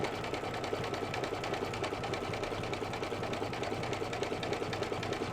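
A sewing machine stitching a mug rug at a slow walking stitch gives an even, close rhythmic chatter of individual needle strokes, steady and uninterrupted throughout.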